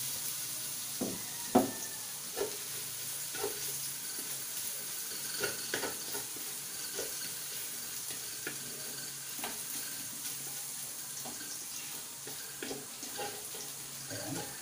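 Garlic sizzles as it fries in a pan with a continuous crackling hiss, broken by light taps and scrapes of stirring throughout. No one speaks.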